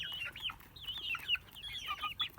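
Desi chicken chicks cluck and peep in quick, wavering calls while being petted in a person's hand, fairly faint against a low background hum.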